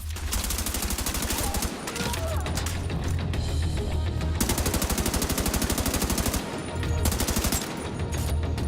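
Heavy gunfire in The Division 2, dense automatic bursts and overlapping shots from several weapons, loud and close, with pauses between volleys and a rapid rattling stretch near the end.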